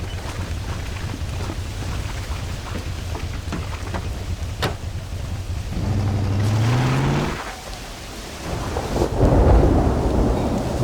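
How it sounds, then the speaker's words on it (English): Thunderstorm in the video game Red Dead Redemption: steady heavy rain with rolling, rumbling thunder, a sharp crack partway through and a deeper rumble swelling near the end, loud and without speech. "it's so dark when there's a thunderstorm on here"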